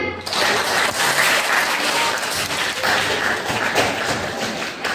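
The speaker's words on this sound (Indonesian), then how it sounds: "beri tepuk tangan" Steady applause from a group fills the whole stretch, a dense patter of clapping at even loudness.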